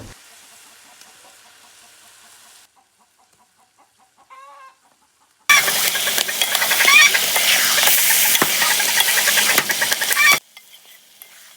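Onions and spices hitting hot oil for Bengali mutton kosha, a loud bright sizzle that bursts in abruptly and crackles steadily for about five seconds before cutting off, preceded by quiet kitchen sounds and a few soft clucks.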